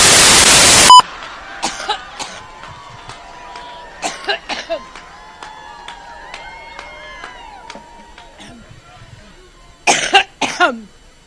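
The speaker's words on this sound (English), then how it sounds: "He's coughing in the middle of my answer." Several separate coughs and throat clearings in an indoor room, sharp bursts spread across the recording with quiet gaps between them, ending in a louder cluster of coughs.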